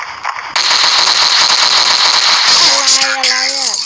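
Gunfire from the video game Special OPS, a dense, rapid burst of shots lasting about two seconds, followed by a voice speaking over the fading noise.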